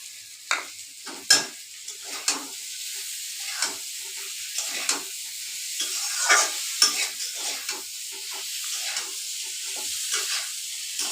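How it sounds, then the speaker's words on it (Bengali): Rice being tipped into a pot of frying masala for a Bengali fish-head murighonto with bottle gourd and kalai dal, then stirred: repeated scraping strokes over a steady sizzle, close and clear with no talking. "এখন আমি এই চাউলটা দিয়ে দিব"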